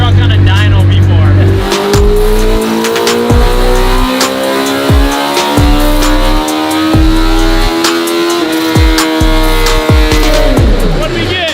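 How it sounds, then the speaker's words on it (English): A mini truck runs hard on a dyno, its engine revving up through repeated gear-like steps with a loud, steady, rising drone close by throughout. "I don't know if anybody has ever taken a mini truck on a dyno before."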